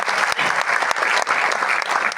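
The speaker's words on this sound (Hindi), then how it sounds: "उनके बड़प्पन के नाम भी एक बार जोरदार तालियां बजाइए।" Loud, sustained audience applause after a poet asks the crowd to clap, a dense wash of clapping hands lasting throughout with no talk over it.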